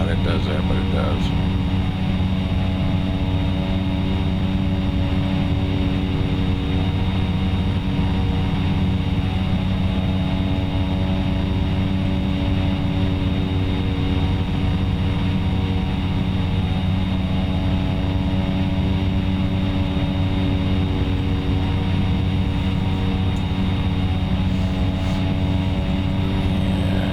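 An airplane engine in the flight simulator X-Plane 11 drones steadily and loudly for the whole stretch, a constant, even hum without breaks.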